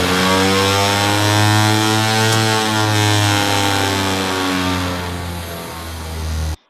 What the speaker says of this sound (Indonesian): bapak-bapak dengar suaranya kayak motor ngebut gitu ya, woing gitu ya